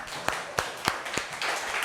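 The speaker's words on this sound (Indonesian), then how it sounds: "Tepuk tangan buat kita semua." Hand claps in a classroom, four sharp separate claps spaced at a steady pace over a murmur of room noise, close and moderately loud.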